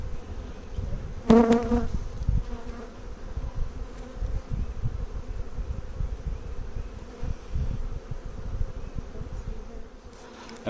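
Honey bees buzz around an open hive frame during a beekeeping inspection, a soft continuous hum from many insects with one louder bee passing close to the microphone early on.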